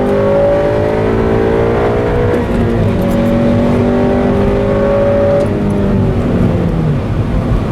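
A Honda Civic Si VTEC engine revs loudly and continuously up close, pitch climbing through the gears with a rising, high-revving wail and no talk over it.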